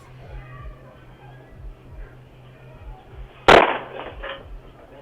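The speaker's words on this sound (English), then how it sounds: "the loud bangs of the attempted burglar's foot hitting the door" A single loud bang sharply breaks a quiet background, followed by a short rattling echo, as a burglar's foot strikes a door hard, caught on a doorbell camera.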